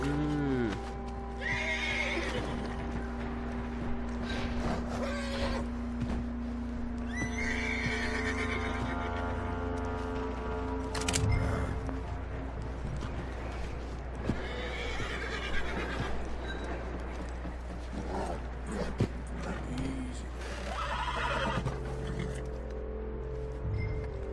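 A horse whinnies several times in Red Dead Redemption 2, loud and close, over a low steady hum, with a few soft hoof sounds between the calls.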